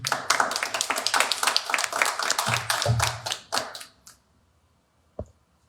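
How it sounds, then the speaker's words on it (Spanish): A church congregation claps during a service, a busy burst of many hands that runs for about four seconds, then stops sharply into near silence broken by a single thump. "Vamos a empezar dándole un fuerte aplauso al Rey de Reyes y Señor de Señores"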